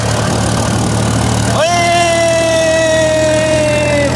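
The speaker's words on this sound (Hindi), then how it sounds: "तो अब देखिए राजधानी एक्सप्रेस के स्पीड में चलेगी हमारे ट्रैक्टर" A tractor engine runs steadily with a low rumble, then a loud tonal whine rises in and holds as it moves on, close and continuous.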